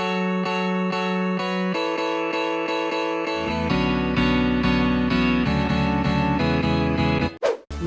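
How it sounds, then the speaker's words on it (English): Chords on Flex guitar plugin presets, including a chill guitar patch, for a future house remake: plucked chords sound in a regular rhythm, then a fuller, lower-voiced section, ending in a brief swooshing tail, with no voices. "I use Pigno's half gain 1 and chill guitar presets."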